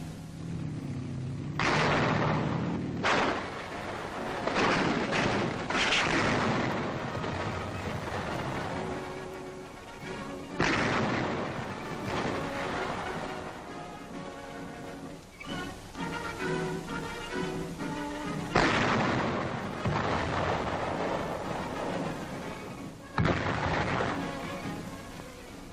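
Rifles fire at make-believe German tank targets towed on range tracks 500 to 800 yards away. Repeated booming shots ring out at irregular intervals, each followed by a long rolling echo across the open range.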